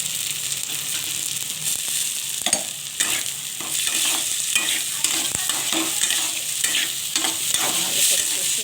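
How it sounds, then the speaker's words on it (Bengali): Chopped tomato sizzling in a hot pan for a fish roe bhujia while a spatula stirs and scrapes repeatedly, crisp frying hiss throughout with irregular clinks and scrapes, close and alone. "ভালো করে কষিয়ে নিতে হবে।"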